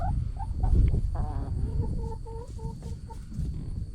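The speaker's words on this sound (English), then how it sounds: "the chickens are still curious about him" Chickens in a barn cluck and murmur in a steady run of short, repeated calls, close by and moderately loud against low background rustle.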